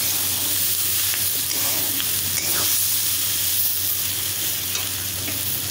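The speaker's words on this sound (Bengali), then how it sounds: "এবার আমি ম্যাগি মশলা মেশাচ্ছি" Vegetables frying in a pan for Maggi noodles as Maggi masala is stirred in, a loud continuous sizzle with scraping stirring close up, steady throughout with no talking.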